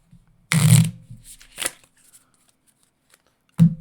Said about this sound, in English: Listen to that beautiful shuffle.